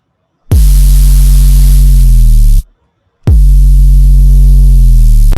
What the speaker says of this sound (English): a lot of people have this kind of white noise going on with their sub